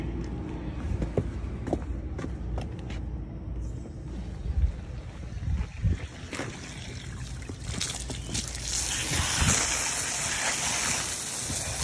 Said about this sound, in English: just a light squirt with the hose, and it all comes off